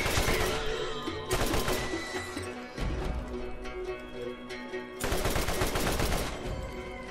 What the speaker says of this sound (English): I like these shotguns.